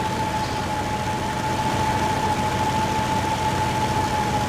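In Spintires MudRunner, an off-road truck's engine drones loudly and evenly with a sustained whine riding over the rumble, up close and uninterrupted, with no voices.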